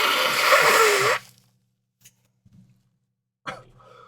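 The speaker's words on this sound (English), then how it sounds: "So let me just blow my nose real quick." A single nose blow, loud and wet for about a second, then near silence broken by a few faint sniffs and small handling noises.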